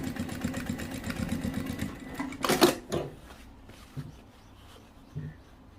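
A sewing machine runs a test line of stitches on denim jeans during a hem-shortening repair, a steady fast mechanical chatter for about two seconds, followed by a sharp clack and a few quieter handling knocks.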